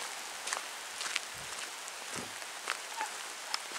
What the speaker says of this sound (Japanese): すごい雨が降らしてきました。